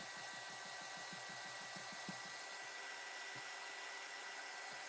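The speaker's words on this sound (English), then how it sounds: "I'm going to dry it again because I don't want to build up the colour too much" A hair dryer blows steadily to dry paint on a mixed media journal page, a constant close whooshing roar with faint low rhythmic pulsing underneath and no talk.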